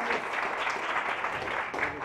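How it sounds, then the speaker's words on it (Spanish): Audience applause closing a Spanish-language lecture on digital animation at a digital culture week event, a steady dense wash of clapping heard throughout at moderate loudness. "Un aplauso, por favor."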